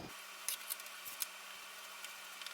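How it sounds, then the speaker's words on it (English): Scissors snip through costume fabric while a shark costume sleeve is cut out, a few soft, light cuts with quiet pauses between them. "And now I'm gonna cut the sleeve."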